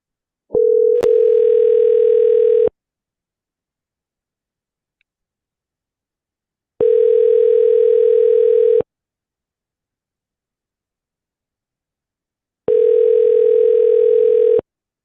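A telephone ringback tone sounds while a call is being dialed. It plays three long, steady electronic tones of about two seconds each, separated by silent gaps of around four seconds, loud and clean, and it begins with a faint click.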